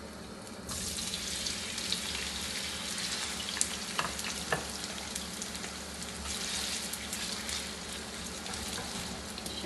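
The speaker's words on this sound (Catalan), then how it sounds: "Ja tenim l'oli calent i ja hi tirarem les patates." Potatoes drop into hot oil and start frying, a dense, even hiss that swells at once and holds steady, with a few soft knocks in the pan.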